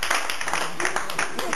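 Applause on an Italian entertainment show for Peter, a contestant just eliminated from a ball game: dense crowd clapping at steady moderate loudness for under two seconds, with voices mixed into it.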